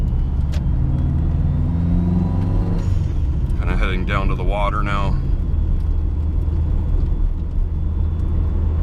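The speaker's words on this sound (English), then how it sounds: "The car's been driving really good." Steady low engine rumble and road noise from a Subaru Impreza in motion on winter tires, with someone talking briefly over it.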